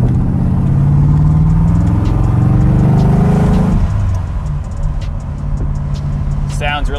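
A 1981 Corvette GM Performance ZL1 Anniversary Edition with a 427ci engine drives, giving a loud steady engine drone that eases off midway and settles into a lower hum.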